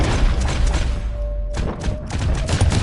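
Dense gunfire from a shootout in Red Dead Redemption 2 plays as a loud, continuous fusillade of booming shots and thuds, with one brief lull partway through before the firing picks up again.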